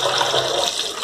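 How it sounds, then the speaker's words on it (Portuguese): Sururu mussels are rinsed in water in a brief, loud rush of sloshing, swirling water with no talking. "Eu vou dar uma lavada aqui."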